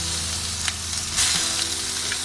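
Chicken goes into a pan of onions sautéed to pink for a Tamil chicken curry, giving a loud, steady frying sizzle with faint stirring scrapes throughout.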